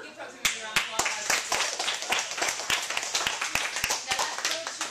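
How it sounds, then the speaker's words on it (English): Classroom clapping after a model comet probe launch, a small group applauding with distinct, uneven hand claps in a lively, close-sounding burst. "Give probes a big round of applause."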